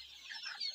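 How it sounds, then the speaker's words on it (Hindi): Fancy chickens clucking in a poultry setup, a short burst of soft, close hen calls alone with no talk. "फैंसी मुर्गी मैं दिखा दूँ दोस्तों आप लोगों को, ये फैंसी मुर्गी है"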